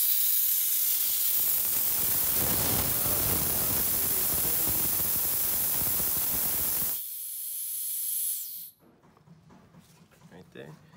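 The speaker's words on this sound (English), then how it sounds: "So now we crack the bleed off valve a little bit." Pressurized gas hisses steadily from the bleed-off valve of a Gorilla side-plated hydraulic hammer during a gas check, loud and continuous for several seconds before cutting off abruptly, leaving faint workshop noise.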